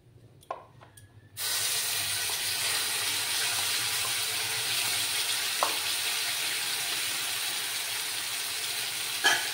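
A kitchen tap runs full as a mixer grinder jar is rinsed out. After a few brief clinks, a steady close-up rush of running water begins and continues for the rest of the moment.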